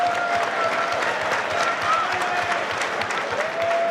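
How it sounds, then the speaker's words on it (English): A fight-night crowd at a combat sports event applauds the fighters, a dense, steady wash of clapping with scattered cheers and an announcer's voice over it. "round of applause for both fighters this evening"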